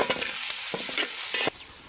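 Quick scraping strokes of a spoon stirring mushroom curry with onion and green chilli in a hot frying pan, with a soft sizzle underneath, brief and close.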